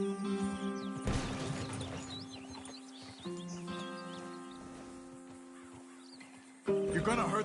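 Video-game horses pulling a wagon whinny and neigh loudly in several bursts, with hooves clip-clopping beneath and a voice speaking between the calls.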